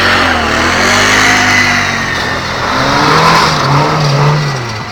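Lada car engine revs hard and steadily on an icy track, loud and close, pitch rising and falling as it accelerates, with no voices.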